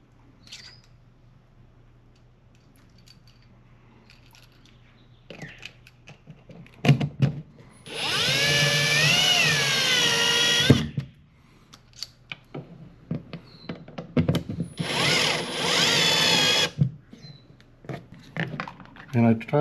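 A power drill drives screws while a Hunter Rain-Clik wireless rain sensor is mounted: two whining bursts of a couple of seconds each, rising in pitch, separated by clicks and handling clatter.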